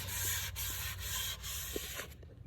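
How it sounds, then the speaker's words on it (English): A car headlight is wet sanded with 2000 grit sandpaper in rapid back-and-forth strokes, each a loud, close rasping rub with brief dips between passes, stopping near the end. "I had to go ahead and hit it with some 2000 grit sandpaper as well"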